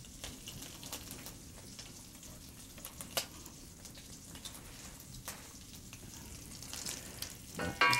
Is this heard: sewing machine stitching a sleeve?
no